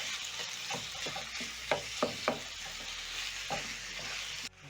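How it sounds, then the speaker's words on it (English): Minced beef frying with soft onion in a pan for samosa filling, a constant sizzle punctuated by scraping, tapping knocks of a wooden spatula breaking up the meat, close and without speech. "Break down using my wooden spatula as the meat cooks."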